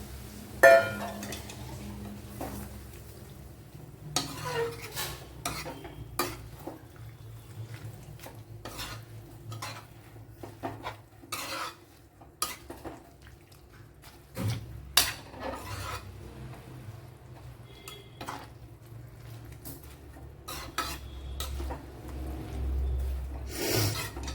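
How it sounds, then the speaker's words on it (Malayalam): Soya chunk curry being stirred in a pot right after thin second-press coconut milk goes in, Kerala style: a close, steady run of spoon scrapes and metallic clinks against the pan, with no talking. "അപ്പം നല്ലതുപോലെ ഇളക്കി കൊടുക്കുക"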